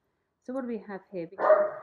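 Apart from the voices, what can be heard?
dog barking in background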